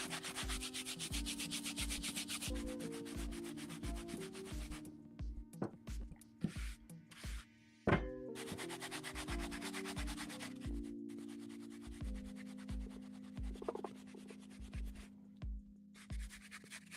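Brisk scrubbing of sneakers with shoe cleaner, a rapid rhythmic brushing rasp, close and continuous, with brief pauses and a few wet squishes and taps in between.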